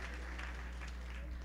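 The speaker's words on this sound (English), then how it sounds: "Let's give her a round of applause" Applause at a Shri Ram Puja and Akhand Ramayan gathering, a steady soft wash of clapping over a low constant hum.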